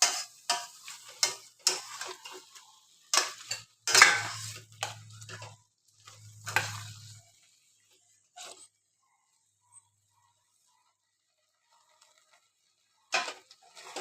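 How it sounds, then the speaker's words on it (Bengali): Aloo dum being stirred in a pan: a spoon scrapes and taps repeatedly, close and quiet, with a couple of brief low thuds, then a long near-silent pause and a final few scrapes. "সারাক্ষণই এরকম নেড়ে যেতে হবে, না হলে কিন্তু তলায় কামড়ে যাচ্ছে।"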